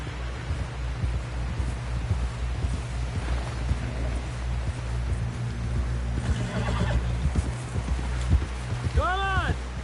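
Horse in a PS4 video game galloping with steady hoof beats, ending in a clear, loud whinny near the close, all under a constant low background rumble.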